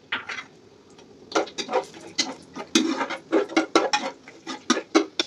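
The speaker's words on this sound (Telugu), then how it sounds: "ఇప్పుడు కొంచెం నెయ్యి వేసుకొని ఈ నెయ్యి హీట్ ఎక్కిన తర్వాత ఈ జీడిపప్పు ఇందులో వేసి వేసుకుందాం." Cashews frying in hot ghee in a pan while making haleem, with a close, busy crackle of irregular sizzling pops that thickens after the first second and runs steadily to the end.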